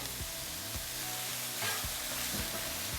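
Meat for Philly cheesesteaks sears on a Blackstone griddle with a steady, fairly quiet sizzle, broken by a few rhythmic scraping taps of a spatula on the flat top.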